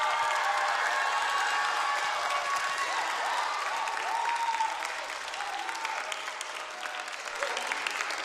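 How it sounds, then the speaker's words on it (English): Sustained audience applause for mentors at a FLL Challenge robotics state championship in Western Washington, a steady dense wash of clapping from a large crowd in a hall that holds for several seconds and fades slightly toward the end. "Let's give another round of applause"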